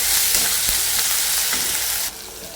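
Fresh ginger sizzles and fries steadily in a pan, a loud continuous crackle with a few stirring scrapes, then drops to a quieter hiss near the end.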